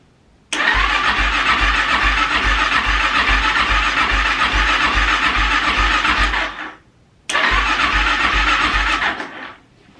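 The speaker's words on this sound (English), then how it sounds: "I'm going to see if it's going to fire up." A Kawasaki KX450F dirt bike with a carburetor leaking fuel is cranked on a jump pack in two loud bursts, a long one followed by a shorter one, each a rapid rhythmic churning that cuts off abruptly without settling into an idle.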